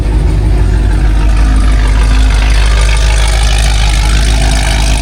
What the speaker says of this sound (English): Here we have a 4th gen Camaro. This shit sounds absolutely insane.